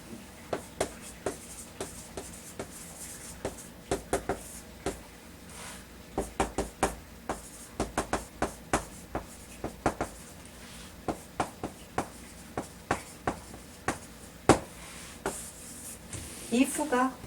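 A pen scratches out a sentence by hand in short bursts of strokes and taps, soft and close, spread over the whole stretch with a faint rustle near the end.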